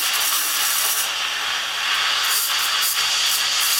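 The steam wand of an Atomic coffee machine froths milk with a loud, steady, close hiss that rises slightly partway through and continues without a break. No one speaks.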